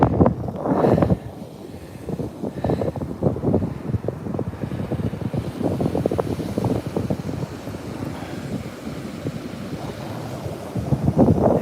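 Ocean surf rolls onto the beach at Virginia Beach, a steady broadband wash of waves mixed with strong wind buffeting the microphone throughout.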